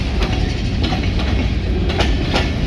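A short freight train rolls past at close range on a Friday, its steady low rumble carrying periodic wheel clacks over rail joints, loud and continuous with no talking.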